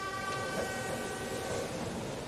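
Train sound from an anime episode, a steady rumbling ride with faint horn-like tones, continuous and fairly close with no talking.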